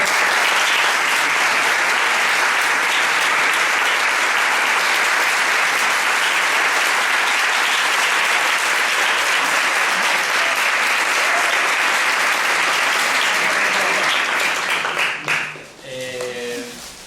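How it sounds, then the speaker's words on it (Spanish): Sustained, loud applause from an audience at a public talk, steady and dense for about fifteen seconds before tapering off, with a voice beginning to speak as the clapping fades. "a que pide un fuerte aplauso"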